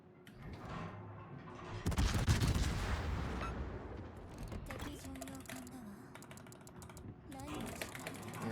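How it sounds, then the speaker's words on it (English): Cruiser guns on the Hindenburg firing in World of Warships, a loud, dense rumble of rapid booms and crackling shots over the game's sound, with someone talking over parts of it. "I'm actually going to start shooting now"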